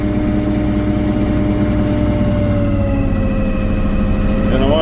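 The small engine of a fertilizer buggy runs at a steady idle with a loud, even throb close by, and a faint voice shows up briefly near the end.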